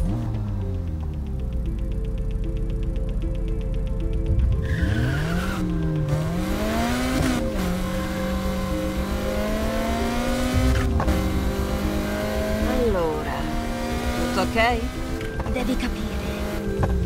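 In Need for Speed Heat, a car's engine revs and tires squeal through repeated skids and slides, sweeping pitch up and down, loud and continuous with a voice talking over parts of it.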